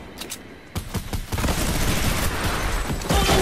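A minigun firing in a video game: a few separate shots, then a continuous loud roar of rapid fire that runs to the end.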